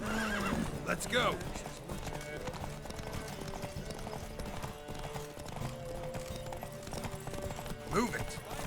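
Horses gallop in a race in The Witcher 3 with a steady clip-clop of hooves while neighs and whinnies rise over a busy, continuous rumble.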